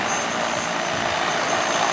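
A DJI Agras T30 agricultural spraying drone with six arms flies over a field, giving a steady, loud whirring roar with a thin high whine on top and no break.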